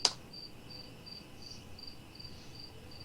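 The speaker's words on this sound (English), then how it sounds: "I have a cricket and he has a cricket." A cricket chirps in short, evenly spaced bursts, fairly close but soft, following a brief knock at the start, with no voices over it.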